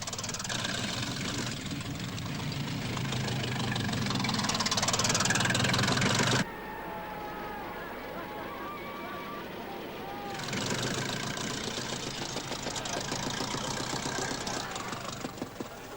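Vintage Mercedes racing car with a vast engine running loud and close, a rough steady roar that drops to a quieter mechanical idle midway, then swells again.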